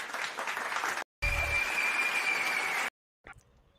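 Scattered audience applause at a business networking event, fairly steady clapping for about a second, a brief gap, then a longer stretch with a faint whistle-like tone, ending in a short burst of noise.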